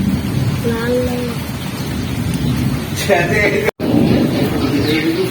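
Rain hisses steadily over a village while people talk over it, with a brief dropout near the end.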